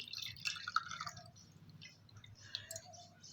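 Water is poured into a glass, heard as faint, close trickling and dripping splashes in a quiet room with no talk.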